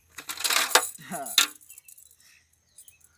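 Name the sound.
coins clinking from a found pot of money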